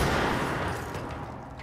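Continuous, loud gunfire from a charged weapon in the video game Control forms a dense, unbroken volley of shots that keeps its level through the short burst.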